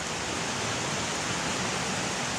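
Waterfall on a tributary in Pennsylvania's Grand Canyon, a steady, full rushing roar of falling water with no breaks or other sounds.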